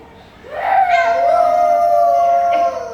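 A voice imitates a dog's howl, one drawn-out rising and falling wail lasting a couple of seconds, loud and close.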